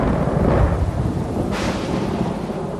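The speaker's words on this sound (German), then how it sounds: "das Wasser, das sich in gigantischen Gewitterfronten auf die Hochebene ergießt" A thunderstorm over the Tibetan plateau brings a broad, steady rumble of rain and thunder, with a sharper crack of thunder about halfway through, loud and enveloping, with no voices.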